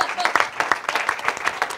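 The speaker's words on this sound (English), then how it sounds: "So let's clap." A small audience claps at a climate divestment talk, a brief scattered patter of hands at moderate volume with a few slightly louder bursts, and no voices over it.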